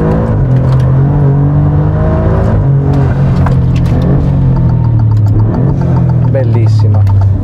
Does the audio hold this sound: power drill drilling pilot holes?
no